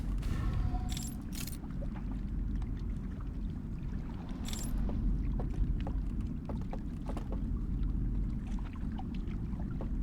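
A boat in the video game Outer Wilds gives off a steady low rumbling drone, with a few sharp clanks and bursts over the top.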